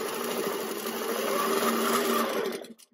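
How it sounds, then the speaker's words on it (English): A longarm quilting machine runs steadily while stitching a sharp stipple pattern across a quilt block, its motor a continuous mechanical whir with a humming tone that holds for nearly three seconds, then cuts off abruptly. "I'm going to cut the machine on and I'm gonna stitch one of these blocks out"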